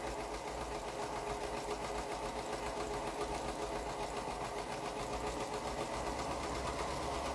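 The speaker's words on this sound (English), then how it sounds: "So I'm just going to chain piece these." Continuous droning hum of a sewing machine chain piecing curved quilt pieces, steady and unbroken throughout with no pauses.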